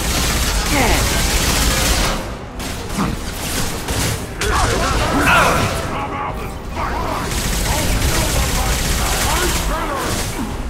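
Dense, continuous battle gunfire from the video game Mass Effect 2: rapid overlapping shots and bursts fill the scene with barely a pause, loud and close, with voices mixed into the din.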